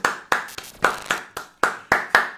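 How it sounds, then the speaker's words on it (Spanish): Studio audience applause welcomes a guest as a handful of people clap close by, about nine distinct, slightly uneven claps in a short, sparse burst. "les pido un aplauso para darle la bienvenida al señor Javier Iranzo"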